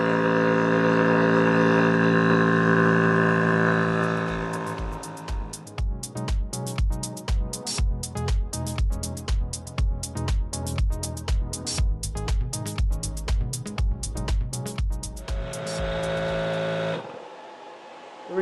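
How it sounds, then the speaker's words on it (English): A Benjamin Recharge personal air compressor runs loudly for about twelve seconds with a fast, steady pulsing chug, after a hum and before falling quiet near the end, with no talk over it. "Compressor on. Close the bleeder."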